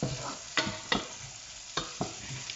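Chopped onions hit a hot pan for omena and sizzle steadily, with a few sharp scrape-and-stir strokes of a utensil breaking through the quiet frying hiss.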